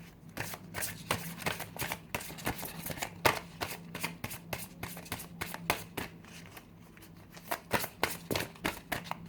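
Oracle cards riffled and shuffled by hand, a steady run of crisp, close flicking snaps with soft papery rustle between them, alone and without talk.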